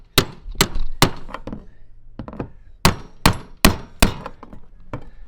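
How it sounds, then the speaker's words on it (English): A series of sharp, heavy hammer blows on a metal fuel pump part of an FJ Cruiser, about ten strikes in irregular bursts, close and loud with short ringing decays. "So we've resorted to a hammer and"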